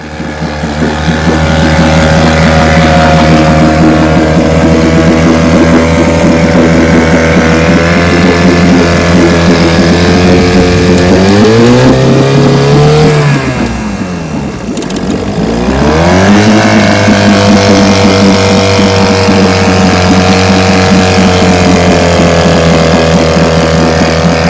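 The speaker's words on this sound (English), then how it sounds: "motor and give her a pull rope and hope she starts" A 1949 Johnson 2.5 HP vintage outboard motor runs loud and steady at Toledo Bend Lake, a buzzing drone that briefly drops and swells back about midway, with no talking.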